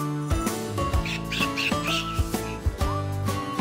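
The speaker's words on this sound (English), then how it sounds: "The ethereal birds and beaky eagle in the dome." Cartoon birds and an eagle in a zoo dome give whistly, squawking calls over a bouncy musical backing with regular beats, loud and close throughout the short stretch.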